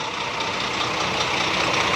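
A Scania tour bus engine idles among a group of parked tour buses, a steady broad rumble with a hissing upper layer, close and unchanging with no talk.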